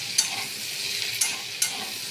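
Potato, taro and onion fry in a pan with a steady soft sizzle, while a utensil stirs and scrapes three times with brief sharp clicks against the pan.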